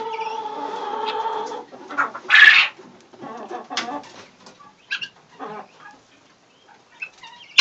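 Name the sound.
chickens and guinea hens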